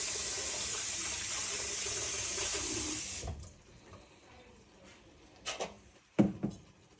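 Tap water runs steadily into a kitchen sink as food is rinsed during Easter dinner cooking, a continuous hiss for about three seconds that then cuts off, followed by a few quiet clatters.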